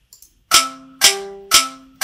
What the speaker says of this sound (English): Kind of a kick drum kind of sound and like our snare hi-hat sound there